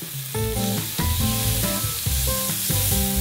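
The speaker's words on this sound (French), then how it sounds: "On va les cuire sur un grill électrique." Steaks, one vegan and one beef, sizzle loudly and steadily on an electric grill turned up to maximum heat, with a continuous close crackling hiss and no talking.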